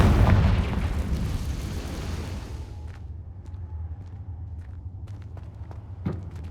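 The Confringo fire spell in Hogwarts Legacy goes off with a loud booming blast that rumbles away over a few seconds, followed by light scattered footsteps and small pops.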